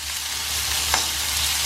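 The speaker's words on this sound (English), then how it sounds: "So we'll stir just for a minute or so." Onions fry in a pan while being stirred, a steady broadband sizzle running throughout with one brief louder scrape near the middle, no voices.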